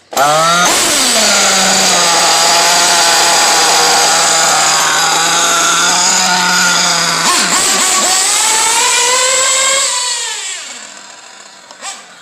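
A small two-stroke engine, still running rich and cold during break-in, screams at steady high revs for about ten seconds, then the note dips and it winds down to a low idle and dies out.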